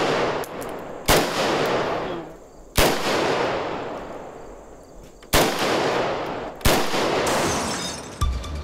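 Single shots from a Kalashnikov assault rifle, loud sharp cracks spaced a second or two apart, each followed by a long fading echo.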